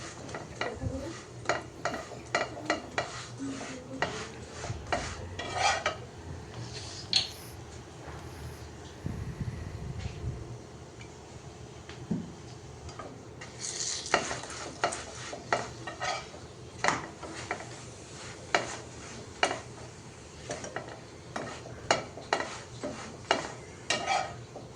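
Parathas frying in a pan in a home kitchen, with repeated clinks and scrapes of a utensil stirring against the pan over a soft sizzle, tapping in irregular bursts throughout.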